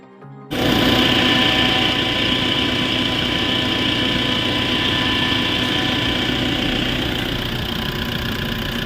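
The air conditioner of a 2009 Mitsubishi Triton runs with a steady, close mechanical hum and whine after an abrupt start, the compressor and fan droning evenly without a break.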